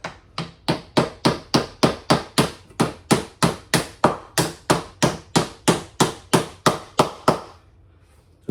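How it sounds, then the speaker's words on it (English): A hammer taps a thick red washer onto a wheel axle in a rapid, steady series of about two dozen sharp, ringing strikes, then stops and leaves silence. "tap that with the hammer as far as it will go"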